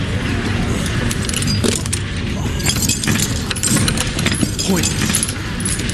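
Metallic key jangling rattles through dense, loud, chaotic noise in The Walking Dead video game, constant throughout, with a brief spoken word.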